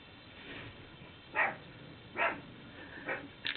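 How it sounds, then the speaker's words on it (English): A pet dog barks at a distance, a few separate short barks spaced about a second apart over faint background noise. "That's Bailey's bark."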